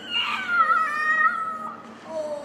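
A drawn-out, wavering meow-like cry, a child imitating a cat, rising and falling over a couple of seconds.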